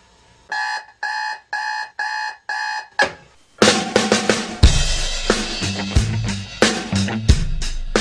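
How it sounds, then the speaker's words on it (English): An alarm clock beeps in five quick rhythmic bursts, then music starts loudly with drums and other instruments. "it starts off with the alarm going on"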